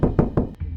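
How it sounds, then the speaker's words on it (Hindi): Knocking on a house door at night in a Hindi horror story: three evenly spaced heavy thuds, close and fairly loud, followed by a fainter single tap. "रात का समय, घर के दरवाजे पर दस्तक होती है।"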